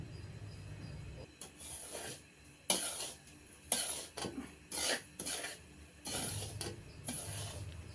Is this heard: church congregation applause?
no